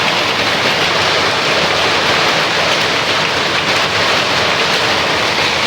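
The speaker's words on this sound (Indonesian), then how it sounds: "jam 3 udah hujan deh" Steady, loud rain falling outdoors during a motorcycle brake service, a dense continuous wash of drops with no voices.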